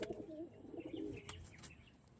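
Andhra pigeons coo softly, with a low throaty murmur through the first second and a couple of faint higher chirps after it, quiet and close.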